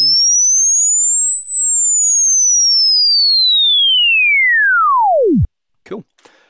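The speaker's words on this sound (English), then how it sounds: "If I play it, it should sound like a sine wave for 8 seconds" A pure sine test tone played back from an imported 8-bit WAV file, loud and steady, sweeping slowly up then gliding down to a deep drop before cutting off, followed by a brief faint voice.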